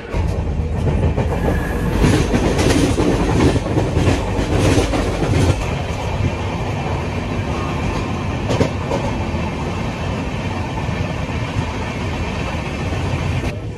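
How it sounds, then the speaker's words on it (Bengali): Bishwabharati Fast Passenger train arriving at a station from the Howrah direction: a loud, steady rumble with clattering wheels over rail joints, running continuously and close by with no voices. "উল্টো দিক থেকে হাওড়া এই যে ট্রেনটা ঢুকছে এটা হচ্ছে বিশ্বভারতী ফাস্ট প্যাসেঞ্জার"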